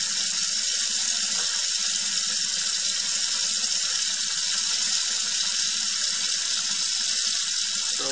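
Water rushing steadily down a freshly cleared sink drain, a constant loud hiss of flowing water with no pauses.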